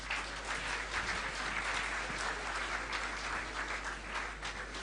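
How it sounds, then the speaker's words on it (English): A large convocation audience at a school of commerce gives sustained applause, a dense, even roar of clapping heard from some distance at a fairly low level. "a big round of applause to them."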